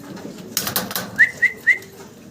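A red Pomeranian pouter pigeon, with a few soft broadband rustles followed by three short, evenly spaced tonal calls, close and moderately loud.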